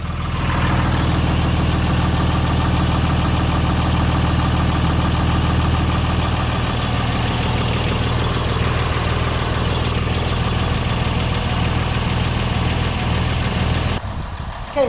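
Ram truck's Cummins 6.7 diesel engine idling after a fuel filter change, a loud, steady low rumble with a clattering diesel knock, running evenly and close by until it stops near the end.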